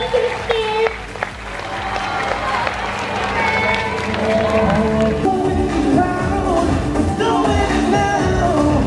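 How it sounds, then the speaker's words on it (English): Crowd at a meet and greet in Manila applauds after a dance performance, with steady dense clapping and cheering throughout. Voices talk loudly over the applause. "Let's give them a warm round of applause."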